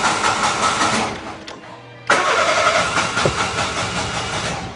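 Car engine idling steadily after its spark plugs were replaced, a continuous loud mechanical drone that cuts out briefly and then restarts abruptly.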